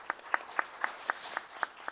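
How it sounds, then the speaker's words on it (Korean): Scattered applause from a Korean youth-session conference audience, about eight distinct claps spaced evenly over two seconds, fairly faint and thin, as though only a few people are clapping at a modest distance. "박수 부탁드립니다."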